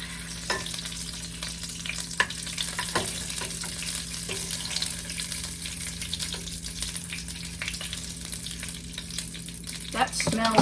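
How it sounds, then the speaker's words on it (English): Food sizzles and crackles steadily in a hot pan, with a few sharp pops and clatters of stirring scattered through. "Sizzle, sizzle."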